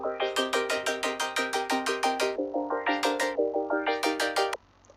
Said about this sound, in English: It's just some basic saw wave chords.